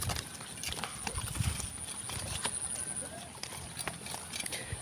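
Hooves of a water buffalo plough through a wet rice paddy in a village on a mountainside, a rough irregular run of soft squelching steps and splashes, with quiet talk in the background.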